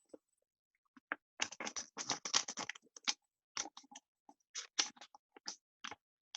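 Sheet of origami paper folded in half by hand and creased flat with a fingernail, giving quiet, close-up bursts of crisp rustling and sliding scrapes in short irregular clusters.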